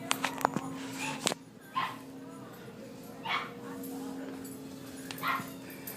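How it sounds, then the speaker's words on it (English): A puppy gives several short, high yips and whimpers spread through the clip, close by, with a voice talking softly over parts of it. "I really like this puppy."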